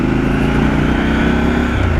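Triumph Scrambler 1200 XE motorcycle engine idling with a steady, deep burble, close and loud, continuous without variation throughout.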